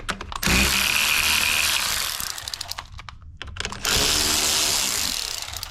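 A hand ratchet works 10 mm bolts on car battery terminals, with two long bursts of rapid clicking separated by a quieter pause with a few scattered clicks, close and fairly loud.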